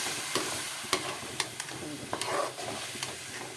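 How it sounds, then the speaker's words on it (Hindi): Ginger, garlic, tomato and green chilli paste fries in a pan with a steady sizzle, broken by several sharp spoon scrapes and taps as it is stirred. "इसको जो है अच्छे से भूनते जाएंगे"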